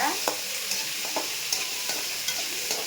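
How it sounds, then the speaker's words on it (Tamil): Curry leaves and onions sizzle steadily in a hot pan for Tamil home cooking, with a spoon scraping and stirring in soft regular strokes above the continuous frying hiss, close and moderately loud, with no talking. "கருவேப்பிலை கருவேப்பிலை போட்டுக்கோங்க வெங்காயம் போட்டுக்கோங்க"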